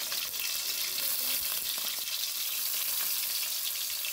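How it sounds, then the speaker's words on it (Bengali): Onion, tomato, green chili and garlic frying in oil, a steady, even hiss of sizzling that continues without pause at moderate volume, with no talk over it. "এই যে পেঁয়াজ টমেটো কাঁচামরিচ রসুন এগুলো কি বাজবি?"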